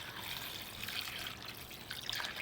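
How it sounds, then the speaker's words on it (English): Water pours steadily into a Vitamix blender jar over seaweed, a continuous close trickling and splashing hiss with no talk. "just fill it with enough water to cover all of it"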